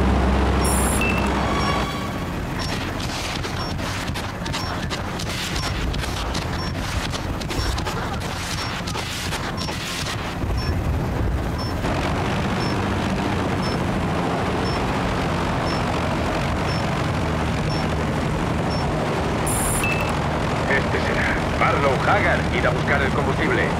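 In the Battlefield Bad Company game, a helicopter comes in to land at a fuel stop, its engine droning steadily and fairly loud beneath voices talking throughout.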